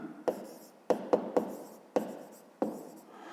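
A pen writes out a math solution on paper in short bursts of scratchy strokes with small taps, close and quiet, with pauses between marks and no voice.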